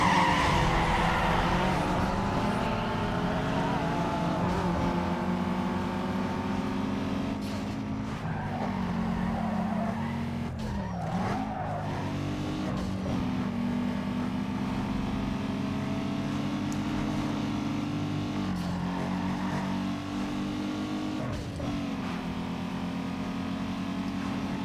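Ford Mustang racing in Need for Speed Underground 2, a loud steady engine drone with sustained revving and tire skids throughout, no talk over it.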